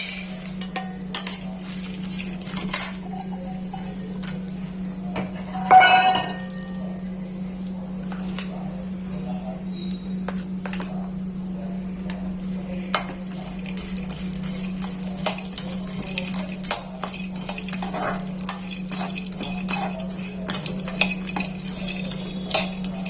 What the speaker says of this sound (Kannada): ಈಗ ನಾನು ಗೋಡಂಬಿಯನ್ನು ಹುರ್ಕೋತಾ ಇದ್ದೀನಿ